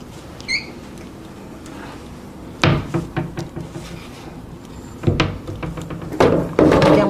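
Cabinet doors and drawers in a housing unit being opened and shut during an inspection, a series of close wooden knocks, thuds and slight squeaks in irregular bursts in a quiet room.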